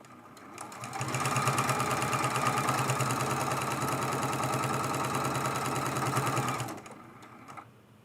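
A sewing machine stitches a quilt-as-you-go table runner with a rapid, even mechanical chatter that starts after a second, runs steadily for about five seconds, then stops abruptly.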